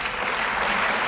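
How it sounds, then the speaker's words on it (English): Steady, dense applause from an audience at a sheriff's office awards ceremony honoring lifesaving award recipients, a continuous wash of clapping with no talk. "And another round of applause for all the recipients of the Lifesaving Awards"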